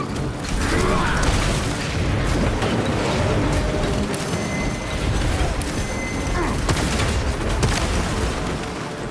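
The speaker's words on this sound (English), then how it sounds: "Frag grenade out!" A frag grenade going off in the game Warhammer 40,000: Space Marine 2, set within a dense, loud battle din of rumbling blasts, mechanical clatter and gunfire that runs continuously without a break.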